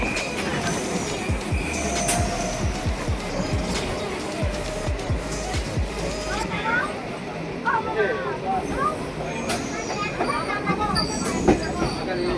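A moving train clatters with rhythmic wheel knocks and a continuous rumbling roar, punctuated by squealing metallic tones, while voices talk intermittently nearby.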